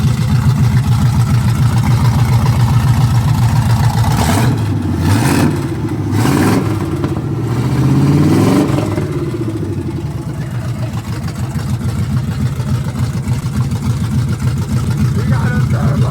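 A loud turbocharged Oldsmobile Cutlass engine with brand-new headers revs hard several times in bursts over a steady idling rumble, close by and throaty, with the pitch climbing and falling.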